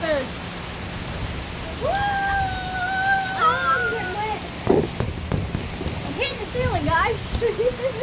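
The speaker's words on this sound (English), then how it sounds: "Guys, look at all this rain." Heavy rain pours down in a storm, a steady broadband hiss running throughout while excited voices talk and whoop over it.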